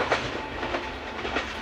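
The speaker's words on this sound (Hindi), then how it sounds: "ये नॉन स्टॉप ट्रेन है जो चलती है पिंडी मार्गला से लाहौर तक" A non-stop Green Line passenger train, running from Pindi Margalla to Lahore and bound for Karachi, rushes through Ratial railway station with a steady rumble and faint rhythmic clacks of the wagons, close by and without speech.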